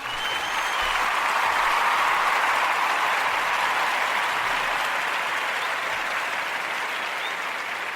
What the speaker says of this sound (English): I'm going to give a round of applause to Stacey for a job well done.